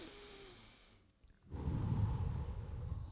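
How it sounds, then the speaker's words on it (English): A single deep breath drawn in during a calming movement session, a soft airy inhale that fades to a brief near-silence before a fuller, louder breathy rush continues to the end. "Deep breath in."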